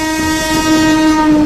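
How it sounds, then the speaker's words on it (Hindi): A steady, tonal train horn holds a single sustained blare, fairly loud with rumbling rail noise beneath it. "उसी पल पटरियों की दिशा से बहुत दूर किसी ट्रेन का हॉर्न सुनाई दिया"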